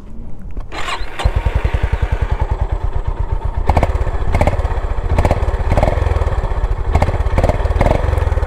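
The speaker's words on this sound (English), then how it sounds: "I'll just turn the motorcycle on and let's hear the exhaust sound." 2024 Honda CB350 motorcycle starting up, then idling with a loud, close, even exhaust thump that stays steady and slightly muffled, with a few blips of throttle.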